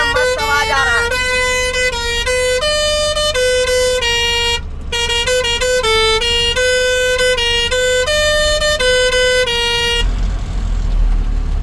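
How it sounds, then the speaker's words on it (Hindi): A modified truck's musical pressure horn plays a loud, sustained multi-tone melody with shifting pitches, briefly cut near the middle, then giving way to road and engine rumble at the end. "जब लोग प्रेशर हॉर्न लगाए थे तो देख सकते हैं कितना मस्त आवाज आ रहा है।"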